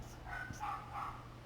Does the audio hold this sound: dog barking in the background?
yes